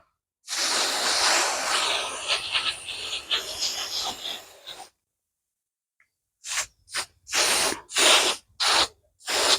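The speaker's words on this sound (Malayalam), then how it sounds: "നമുക്ക് സ്പ്രേ പെയിൻറ്റ് അടിച്ചു നോക്കാം" Aerosol spray paint hisses onto a dried-flower craft in one long continuous burst, then after a brief pause comes a series of five short, sharp sprays, close and loud.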